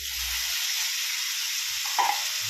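Pumpkin greens, parboiled with salt and turmeric, hit hot oil with frying garlic and sizzle in a constant close hiss, with a brief stirring scrape near the end.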